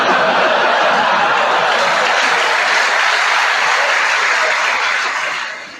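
Loud audience clapping fills the room with dense applause mixed with scattered chuckles and laughter, holding strong before tapering off at the end.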